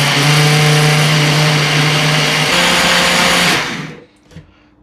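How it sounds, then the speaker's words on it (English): A Ninja blender whirs steadily at full power, blending a protein ice cream mix in a loud, dense roar for several seconds before cutting off abruptly into near silence. "And then we're going to blend it all together. I use a Ninja blender."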